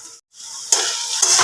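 Red amaranth greens fry in a pan with black cumin, green chili and garlic, giving a close, steady sizzling hiss with stirring, broken by a brief silent pause early on before the frying resumes loudly.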